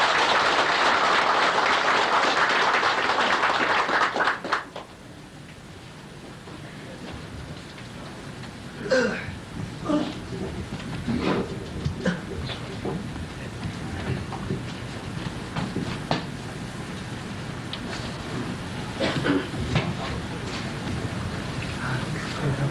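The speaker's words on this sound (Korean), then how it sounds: "강의에 임하시는 선생님께 뜨거운 박수로서 환영해 주시면 대단히 감사하겠습니다" Audience applause welcoming a lecturer at a hall talk, a loud burst of clapping for the first few seconds that breaks off abruptly, followed by a quieter room with scattered sounds and someone speaking.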